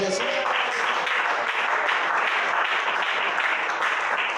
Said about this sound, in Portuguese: A igreja bate palmas para Jesus.